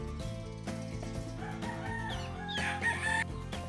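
A caged gamefowl rooster crows in a drawn-out call, heard fairly close and moderately loud over a quiet background, with no one speaking.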